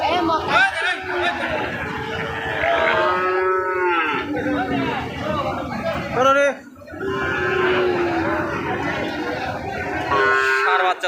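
Cattle, including Indian bulls and calves, low and moo repeatedly at the new cattle market in Joypurhat, Bangladesh. The long, loud calls come close by, with a brief pause between them, over crowd chatter and people talking.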